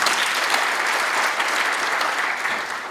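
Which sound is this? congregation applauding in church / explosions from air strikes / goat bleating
congregation applauding in church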